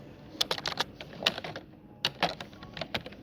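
Typing on a computer keyboard while registering a walk-in guest at a hotel front desk; irregular bursts of clicking keystrokes, close and fairly quiet, with no talking.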